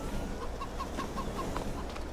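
Chickens in the Carpathian Countryside game clucking in a row of short, evenly spaced calls, faint over a soft ambient backdrop.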